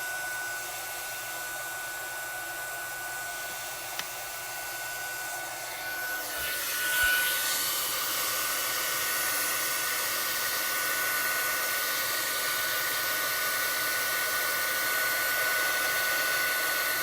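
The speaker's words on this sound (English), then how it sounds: "I'm going to turn my gun on so it starts to heat up" A heat gun switches on and blows hot air with a steady, loud whooshing hiss that builds after a few seconds of quiet room sound and then holds constant up close.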